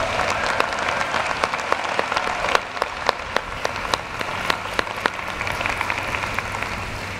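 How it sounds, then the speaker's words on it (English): An arena audience at a commencement ceremony applauds the musicians, scattered but steady clapping from a large crowd, moderately distant with sharp individual claps standing out, lasting several seconds. "Let's give them a round of applause."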